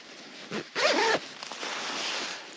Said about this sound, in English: do up this YKK zipper